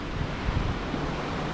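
Wind on a cold Norwegian coast buffeting the microphone in a loud, constant low roar with a few gusty thumps, no voices.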